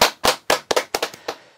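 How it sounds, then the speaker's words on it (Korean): A congregation at a Korean Thursday church service gives a short burst of applause, a handful of sharp, loud claps in an uneven rhythm that fade toward the end. "하나님께 영광의 박수 올리겠습니다."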